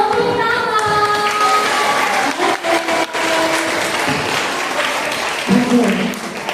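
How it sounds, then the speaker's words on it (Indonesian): Children and a congregation at a church service for National Children's Day clap together in sustained applause, with voices and cheering mixed in. "semua tepuk tangan."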